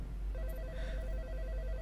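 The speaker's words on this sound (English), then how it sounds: "Looks like the phone is ringing." Telephone ringing in the pixel-art video game Home, a repeating electronic trill pulsing steadily and fairly loud over a low background hum, with no one talking.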